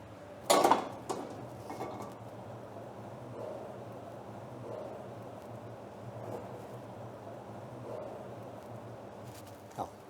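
A metal pan is set down on the stove, ready for fish fillets: one sharp clatter near the start, a few lighter knocks after it, then a quiet steady background hiss, with a small clink at the end.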